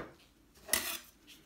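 A knife slits open the belly of a whole fish in a single short, crisp cutting scrape with faint clinks around it, heard close and alone.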